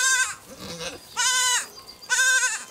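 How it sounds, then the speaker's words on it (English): Goats on a ranch near Carmona, Sevilla, give three loud, nasal bleats close by, each about half a second long and spaced roughly a second apart, with quieter shuffling between them. "Goats all over."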